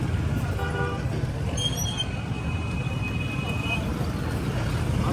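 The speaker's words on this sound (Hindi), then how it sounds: "शाम का टाइम है जी, रश बहुत ज़्यादा हो चुके हैं।" Dense evening rush-hour street noise with a steady roar of traffic, a few short horn toots and a long high horn blast near the middle, loud and close throughout.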